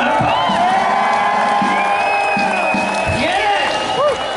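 A live concert audience at a Kansas City club show cheers and claps, a loud crowd roar with whoops, while musical tones and a voice ring over the noise.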